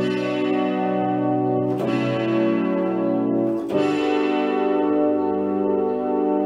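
Keyboard set to an electronic timbre plays long sustained notes with a buzzy, distorted, chorused tone; a second note enters near the middle and keeps ringing without cutting off, alone with no talking.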